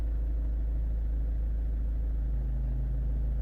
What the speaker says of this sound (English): When I start the engine,